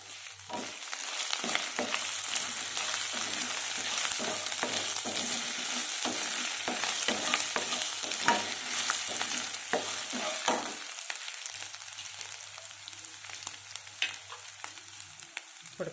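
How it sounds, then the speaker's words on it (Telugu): Lentils and dried red chillies fry in hot oil with mustard seeds, giving a steady broad sizzle with scattered crackles and the clicks of a spoon stirring, all close and continuous with no talking. "పప్పులు కూడా బాగా ఫ్రై అవ్వాలి. ఇప్పుడు ఎండుమిర్చి కూడా వేసేసుకున్నాము."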